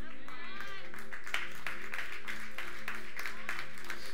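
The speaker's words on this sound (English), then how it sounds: "Don't clap for me." A church congregation breaks into scattered applause, with individual claps landing loosely and rhythmically under a voice speaking over them.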